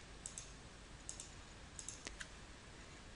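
A computer mouse clicks quietly while entries are selected in database software: several soft, crisp clicks, some in quick pairs, spread over a few seconds against a faint steady hiss.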